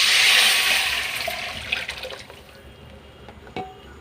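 Rasam water is poured into a cooking pan holding tempered dried red chillies and curry leaves. It begins as a loud, full splashing rush that gradually thins and quiets, ending in a few small drips and clinks.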